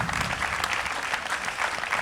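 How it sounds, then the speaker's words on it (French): Audience applause at a press conference presenting a basketball academy, dense and steady clapping filling the room for two seconds. "pour applaudir celui qui est maintenant le meilleur marqueur de l'histoire de l'Eurobasket"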